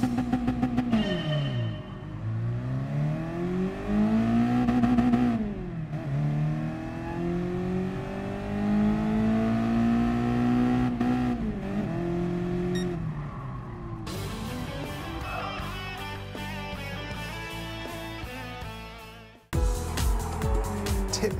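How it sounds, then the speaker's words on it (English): A Mazda race car engine in Gran Turismo Sport revs hard against the rev limiter, its pitch climbing and dropping repeatedly through gear changes, loud and close with no voices. "you just need to hit the rev limiter a few times between gears just to give it its best acceleration"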